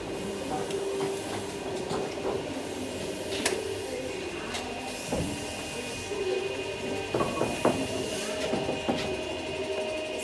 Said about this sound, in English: That's the scribing machine.